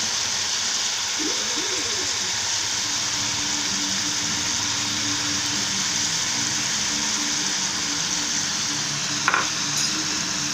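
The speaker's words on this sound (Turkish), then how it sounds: "Soğanımızı atıyoruz." Constant sizzling hiss of onions frying with chicken in a pot, with occasional faint scraping from stirring; no talking.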